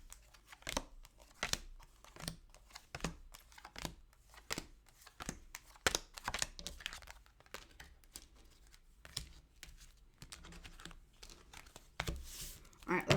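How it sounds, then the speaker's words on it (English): Tarot cards riffle and slap together in quick irregular bursts as they are shuffled, soft crinkly snaps repeating close by for several seconds at a low level. "Let me get a good shuffle."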